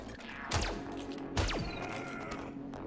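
Glass smashing in the VR game BONELAB, two sharp crashes a second apart, each with a quick sweeping whoosh, over a steady background hum.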